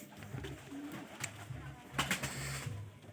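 Pigeons coo softly nearby while eating scattered wheat, a few low rolling calls over faint pecking and light background noise.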